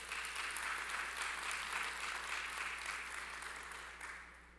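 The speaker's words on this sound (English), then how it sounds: "a round of applause to all of us" Steady applause from an audience at a Jamaica agri-business investment forum, a dense even wash of clapping lasting several seconds and thinning slightly at the end.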